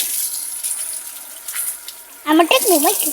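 Water runs from a village tap fitted with a small motor as someone washes their feet, a steady close splashing hiss that a voice begins talking over near the end.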